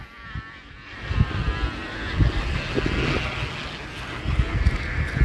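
A ribbon kite hummer on a hawk-style kite buzzes in flight outdoors, a steady droning hum over gusty wind rumble that swells and fades slightly. No one speaks over it.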